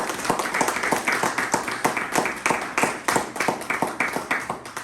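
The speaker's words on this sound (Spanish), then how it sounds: "Denle una ofrenda de palmas al Señor" Congregation clapping in unison at a church service: steady, rhythmic claps, roughly two or three per second, close and moderately loud with a faint murmur of voices underneath.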